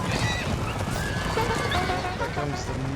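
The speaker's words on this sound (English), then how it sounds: "There comes the multitude of cavalry now." Cavalry horses neigh and whinny amid clip-clopping hooves in an Empire Total War mod battle, several loud overlapping calls layered over dense battle noise and a talking voice.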